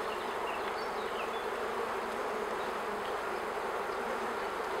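A continuous close buzz of honey bees fills the hive during a queen change, a thick steady hum without pauses or voices.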